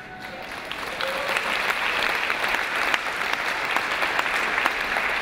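An audience at a business talk on small businesses applauds, steady dense clapping that swells after a quiet start and holds at full strength, fairly near and with no talk over it.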